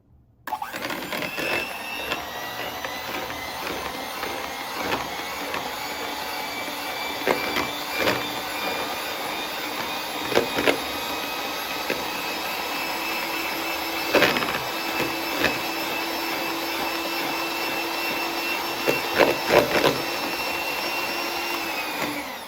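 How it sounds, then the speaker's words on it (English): A blender whips heavy whipping cream and vanilla toward soft peaks outdoors, giving a loud, unbroken motor whir that holds steady for over twenty seconds, with faint knocks and no speech. "Once we have our heavy whipping cream and our vanilla, we're going to start blending that."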